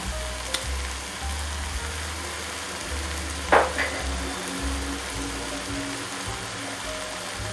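Vegetables for a potato and carrot winter soup sauté in a pot with a steady, moderate sizzle, broken once midway by a brief scraping stir.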